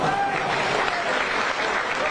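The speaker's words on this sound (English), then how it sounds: "Warm applause, appreciative applause from the home fans" Home fans at an Aldershot Town versus Brighton & Hove Albion PL2 National League Cup football match, a brief wash of distant, even crowd applause across the ground.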